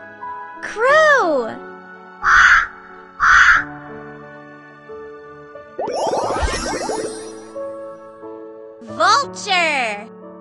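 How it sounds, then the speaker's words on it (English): A crow gives two short, harsh caws close up, followed by a longer rasping call, with a voice speaking between the calls. "Crow."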